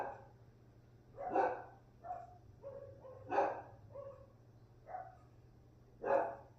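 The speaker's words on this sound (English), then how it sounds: "Sorry, my dogs are barking again." Pet dogs barking indoors at home, several separate barks and yips spaced across a few seconds, moderately distant and fairly faint over a low steady hum.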